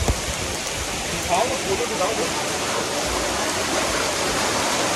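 Steady rain pours down in Nainital, India, a dense hiss of drops drumming on surfaces nearby, with faint voices mixed into the wash.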